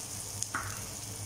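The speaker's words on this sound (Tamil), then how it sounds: "இப்போ இந்த ஒரு நிமிஷம் மட்டும் அந்த வெங்காயம் வதங்குற வரைக்கும் வதங்கட்டும்." Onions sautéing in a pan for a bitter gourd stir-fry make a faint, steady sizzle with one or two brief clicks from the pan. No one talks.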